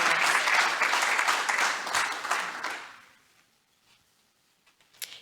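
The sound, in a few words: audience applause at Rotary Club meeting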